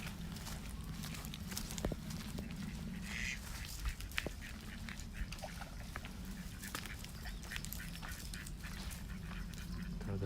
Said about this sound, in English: There are the ducks and those little birds over there.